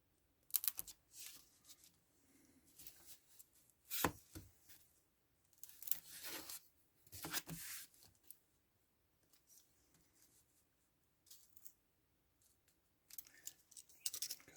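A blade cutting tabletop terrain pillar sections along a ruler, close and quiet, a series of separate scraping and slicing strokes with short pauses between them, no talking.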